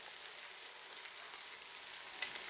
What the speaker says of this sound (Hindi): और अब मैं थोड़ा सी आग को तेज़ करके तो इसको थोड़ा सा फ्राई करूंगा।